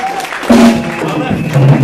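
Applause from a church congregation, a dense patter of clapping that carries steadily throughout, mixed with voices and a sustained tone beneath.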